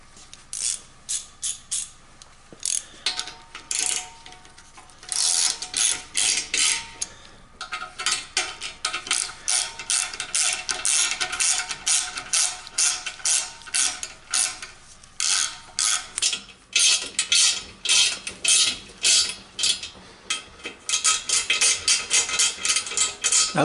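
A ratchet clicks in rapid bursts with short pauses as six bolts are tightened, drawing a bolt-in sprag evenly into a Chrysler 518/618/46RE/47RE/48RE transmission case. The sharp metallic clatter is close and loud.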